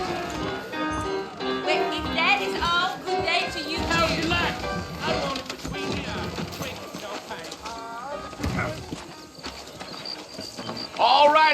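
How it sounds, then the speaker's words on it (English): Steady clip-clop of saddled horses' hooves trotting continuously beneath overlapping voices and ambient sounds in the video game Red Dead Redemption, with a brief whinny-like sound near the end. "I got the horses saddled up and ready out front."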